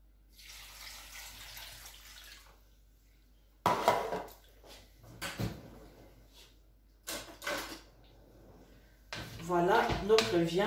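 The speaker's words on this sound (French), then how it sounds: "On doit remplir beaucoup d'eau dans notre casserole." Water is added to a cooking pot of oxtail broth with plantains, a soft running pour followed by clanking pot and utensil knocks, with a person talking between the sounds.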